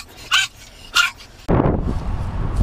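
Two sharp barks from a dog sound outdoors at a truck stop, followed by a louder burst of close, rumbling noise.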